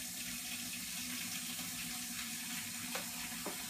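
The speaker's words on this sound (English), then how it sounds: "The water's running." A tap runs steadily indoors, with a constant hiss of flowing water and a few faint clicks near the end, no talking.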